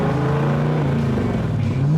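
A Superperformance Cobra V8 fitted with Weber carburetors revs loud and close, with a deep throaty roar whose pitch rises and falls over two seconds. Intake rasp runs under the rumble.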